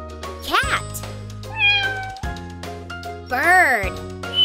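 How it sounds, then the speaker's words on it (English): A cat meows three times in a children's animal-sound puzzle game, clear rising and falling cries separated by steady musical tones and light jingling chimes. "Cat."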